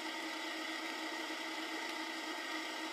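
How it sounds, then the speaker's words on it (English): A tractor engine in the video game Farming Simulator 15 drones steadily as it drives, an even, mid-pitched hum with no talk over it. "Let's see how fast this tractor can get round the circuit."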